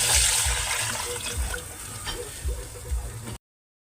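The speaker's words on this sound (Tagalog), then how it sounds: "Ngayon, lagyan na natin ng tubig." Water poured into a cooking pot holding squid, onion and garlic, a close, gushing splash that runs steadily for a few seconds before cutting off abruptly.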